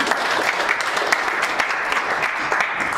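Dense, steady clapping from a seminar audience on turmeric recipes, filling the room for a few seconds right after a presentation ends, even and continuous with no voices over it.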